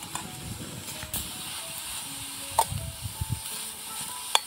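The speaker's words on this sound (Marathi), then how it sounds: "असं व्यवस्थित मिक्स करून 2-3 मिनिट भाजून घ्यायचा तुपामध्ये" Beetroot and carrot halwa with milk stirred and roasted in ghee in a pan: a steady soft sizzle and hiss with scattered scraping stirs and a few sharper clicks of the spoon, no talking.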